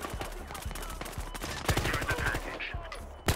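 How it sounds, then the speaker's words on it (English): Gunfire in the video game Battlefield Hardline, with rapid bursts of shots cracking in quick succession amid a busy battle mix, plus a sharp louder shot near the end. "Oh, they're shooting at me!"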